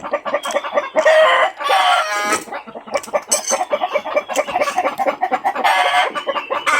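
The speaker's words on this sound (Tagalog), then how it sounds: "Tama yung manok oh. Maingay." Chickens cluck and squawk continuously in a busy, noisy chorus, loud and close, with overlapping calls and no talking.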